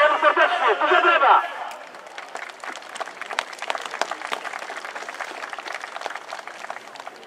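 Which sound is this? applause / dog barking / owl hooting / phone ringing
applause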